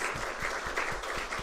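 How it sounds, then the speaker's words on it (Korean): A short, fairly soft burst of clapping from a congregation thanking a church choir after its singing, steady and brief with no talking over it. "찬양을 해주신 성가대 친구들에게 다시 한번 감사의 박수 하겠습니다"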